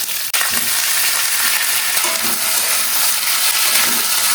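Vegetables with raw tomato, salt and turmeric fry in oil in a wok, a loud, dense, continuous sizzle close by, broken by occasional scraping thumps of a spatula.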